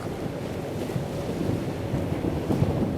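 Strong sea waves roar and churn continuously while wind buffets the microphone, a dense, loud rushing sound with no pauses.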